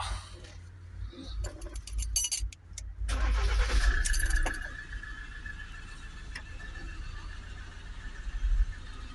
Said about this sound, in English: We'll start the vehicle up.